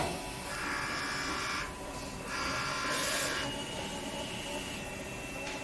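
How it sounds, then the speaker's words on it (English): PET DTF A3 printer with dual Epson F1080/XP600 heads printing a calibration pattern, a quiet steady mechanical whir with buzzing carriage passes that swell and fade several times. "the printer starts to print a picture out"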